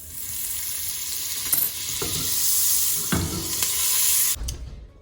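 Onion-infused oil and a tablespoon of butter sizzle steadily in a hot pan, a broad constant frying hiss close by with a few soft clicks and stirring knocks, no talk.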